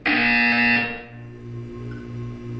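A harsh, loud electronic buzzer in the Portal 2 video game blares for about one second, then drops into a lower pulsing drone of repeated tones that continues on its own.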